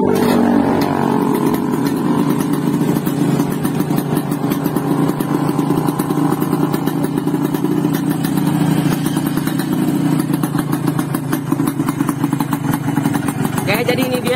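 A Yamaha RX King two-stroke motorcycle with extremely ported engine, running loud and close with a steady, rough buzzing drone and rapid clattering pulses throughout, no clear revs rising or falling.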